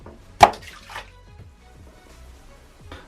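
A bath bomb drops into a filled bathtub with a sharp splash, followed by soft sloshing and faint water movement, close and quiet afterward.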